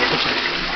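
Water runs from a hotel room shower in a brief, steady, close hiss of spraying water.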